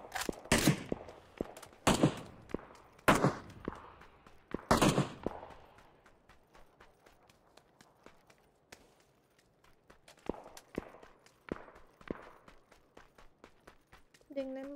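Gunfire in PUBG: several sharp, loud close shots in a spaced series early on, then quieter, farther cracks scattered through the rest, with voices talking in between.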